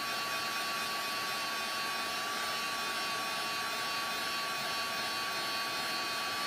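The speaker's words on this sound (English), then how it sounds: "Just melting all of that embossing powder" A craft heat tool melts embossing powder for a resist technique, giving a steady, moderately quiet whirring blow that runs unbroken throughout with no talking.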